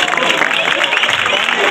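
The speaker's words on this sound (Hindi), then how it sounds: "जोरदार तालियां" Loud, dense applause from a crowd at an outdoor election rally for the Bhiwandi municipal polls, held in Shantinagar, Kidwai Nagar, a steady wash of clapping with cheering voices mixed in throughout.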